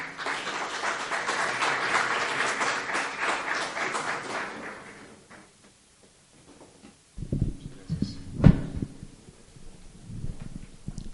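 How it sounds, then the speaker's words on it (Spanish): Applause from the audience at a university smart-cities event in Bucaramanga, greeting the executive president of the chamber of commerce. A dense, steady round of clapping fills the first five seconds, then fades into quiet room noise and shuffling. "Lo recibimos con un fuerte aplauso."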